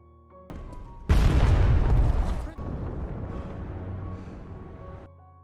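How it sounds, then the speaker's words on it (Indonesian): A bomb hidden in a lifeboat erupts in a sudden deep blast that roars on for a second or so, then a lower rumbling settles in before cutting off, heard over a faint background tone. "di dalam skoci itu sudah terdapat bom yang siap diledakkan."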